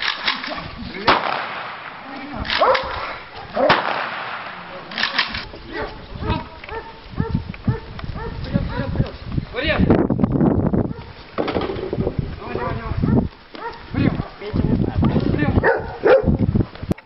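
Dogs bark repeatedly amid outdoor commotion at a dog handlers' competition at a correctional colony, with sharp gunshot cracks and people speaking over much of it.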